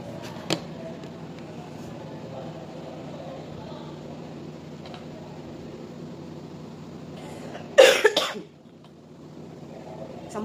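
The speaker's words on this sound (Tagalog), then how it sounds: "Samot gid ni atong ubo karon mga ate kay perting bugnawa." One person coughs once, loud and close, in a quiet indoor room with a steady low hum.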